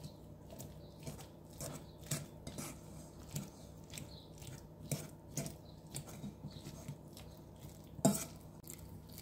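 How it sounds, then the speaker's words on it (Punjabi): Soft, irregular clinks and scrapes of a fork mashing warm steamed vegetables in a bowl, quiet and close, with one sharper metallic tap near the end. "ਫਿਰ ਫੋਕ ਦੇ ਨਾਲ ਮੈਸ਼ ਕਰ ਲੈਣਾ"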